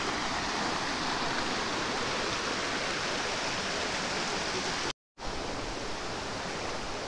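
Flowing stream water near Kundar Falls in Tenkasi District, a steady broadband rush that fills the whole clip at close range, briefly cutting out once near the end before resuming.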